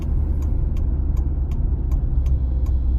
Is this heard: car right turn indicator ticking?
yes